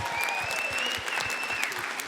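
Audience at a live comedy show applauding, a dense, steady round of clapping from a large crowd sustained for the whole stretch, with a whistle ringing above it.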